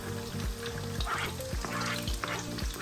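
Chopped onions frying in a few spoons of hot oil with cardamom for biryani, a steady close sizzle with rhythmic stirring thumps and scrapes, no talking.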